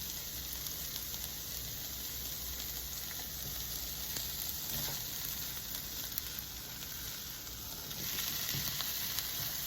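Spinach omelette sizzles steadily in a hot skillet, a constant bright frying hiss with occasional soft scrapes and crackles, close and fairly quiet.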